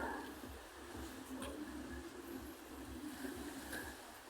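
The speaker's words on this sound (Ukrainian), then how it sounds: "Чути шум прибою." Baltic Sea surf washes at night beside the pier in Gdańsk, a faint, steady hiss of breaking waves with a low rumble underneath and occasional soft distant sounds.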